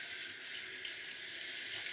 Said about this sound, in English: let me rinse a few of these off